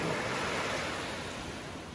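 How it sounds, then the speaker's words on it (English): Ocean waves at a tucked-away Dominican beach roll as a steady, broad wash of surf, close and continuous, without talking. "I like the sound of the water."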